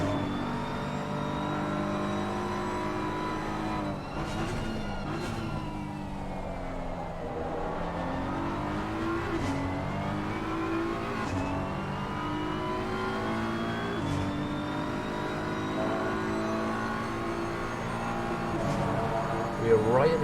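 Race cars lapping Kyalami in a racing video game, their engines rising and falling through repeated revving whines and gear changes over a steady drone, with a commentator talking over them.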